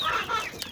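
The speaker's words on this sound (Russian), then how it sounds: "Это вот у меня петухи, про которых я говорила" Zagorsk breed roosters cluck briefly and faintly at close range, a short burst of fowl calls with no talk over it.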